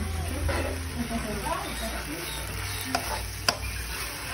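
Kangkong cooking in butter in a pan sizzles softly and steadily, with a few sharp clicks and clatters from the pan or lid, while a person talks nearby.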